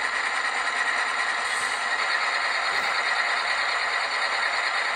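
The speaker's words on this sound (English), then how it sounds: "they have got a noisy, rattly engine till it warms up" An Auscision NR class model locomotive (Pacific National NR66) plays its DCC sound of a noisy, rattly diesel engine before it warms up, heard as a steady, continuous drone with no talking.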